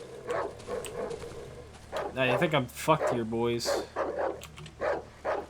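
A dog barks repeatedly in the horror game Darkwood, sharp close yelps and barks mixed with someone talking over them.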